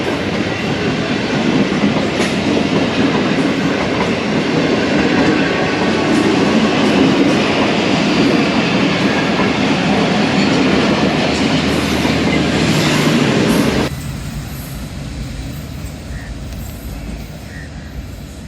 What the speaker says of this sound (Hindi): ये है 33 अब पाक बिजनेस एक्सप्रेस, कल शाम से रवाना हुई हुई है कराची कैंट से।